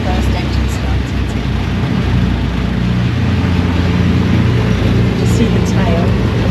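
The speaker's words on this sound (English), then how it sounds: "First engine started." A piston engine on the Avro Lancaster Just Jane starts and runs at East Kirkby, a loud, steady low rumble filling the scene, with people talking over it.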